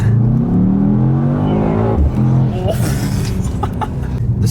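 A Mercedes E63s accelerating hard at full throttle: a loud, close engine rising in pitch with a gear change midway, then continuing to roar, with people speaking over it.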